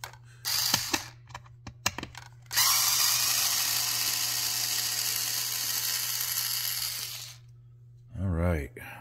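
A small cordless drill removes strap buttons from a guitar: a few short whirring bursts, then a long sustained spin of about five seconds, ending with a brief rising-falling whine, recorded up close.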